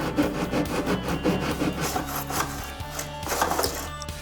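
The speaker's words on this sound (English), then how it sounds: "We're gonna drop it into the miter block and then hold it in place with these posts. And then we can select the 45-degree angle and get cutting." A hand saw cuts wood held in a miter block at a 45-degree angle, making rhythmic rasping back-and-forth strokes, close and steady throughout.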